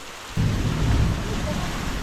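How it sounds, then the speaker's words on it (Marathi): A sudden low rumble of thunder breaks in over a bed of monsoon rain in rural Konkan, rolling on heavily for a second before easing. "पावसात गडगडता ताजा"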